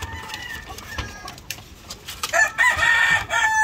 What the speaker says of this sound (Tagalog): Meron tayong white kelso na nakuhang babae.